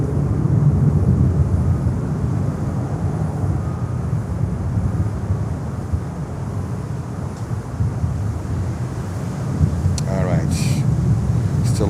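A FedEx Boeing 767-300 jet departs from runway 9 at Miami airport, a sustained broadband roar heard from a distance with a brief, faint sound near the end.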